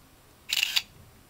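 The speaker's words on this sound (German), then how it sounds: "Hierfür wählen wir einfach ganz normal unser Fotomodus aus und anhand des Autofokus schießen wir das Foto dann." A Nokia N97 phone camera takes a photo with autofocus, giving a single short, crisp shutter click burst, clear against a quiet background with no talking.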